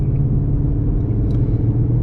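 A car driving on the Thunderhill racetrack, its engine a steady loud low rumble heard from inside the cabin, constant with no clear revving.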